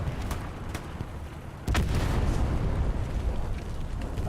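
Tank main gun fire in a competitive video game match, two booming shots with a heavy blast that jumps in loudness midway and sustains a rumbling tail, no voices.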